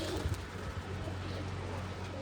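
Soft, low pigeon cooing close by, a brief murmuring call over faint background noise.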